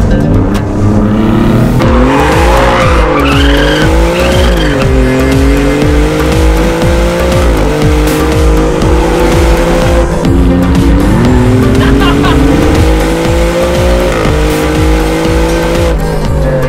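An Alfa Romeo Giulia GTAm is driven hard on the Tianma race track, its engine loud and close as it revs up and down through gear changes, with tires squealing through the corners.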